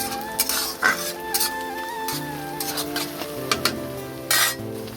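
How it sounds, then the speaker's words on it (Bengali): Chopped onions fry lightly in a pan while being stirred, giving a steady sizzle broken by repeated scrapes and clinks of a utensil against the metal, close and fairly loud, under a faint musical background. "পেঁয়াজগুলো খুব সুন্দরভাবে ভাজা হয়ে গেছে"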